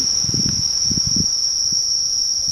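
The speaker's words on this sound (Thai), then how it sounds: "เขาเรียกจักจั่นนะครับท่านผู้ชม" Cicadas emerging from the ground in Thailand give a steady, loud high-pitched whine that runs throughout, with a few low rustling thumps near the start.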